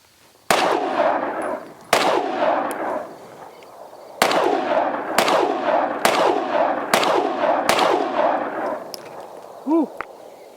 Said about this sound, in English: Gonna take his first rounds on the Springfield Hellcat Pro.